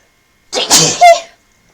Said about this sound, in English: Okay, I've got to sneeze.